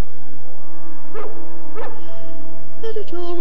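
Two short, sharp dog barks a moment apart, then a thin whining yelp, over a steady low hum.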